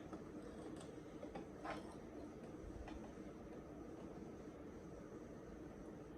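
A Brother SE1900 embroidery machine stitching a single colour onto a bucket hat, a quiet, steady mechanical whir with a rapid rhythmic rattle that runs unbroken throughout.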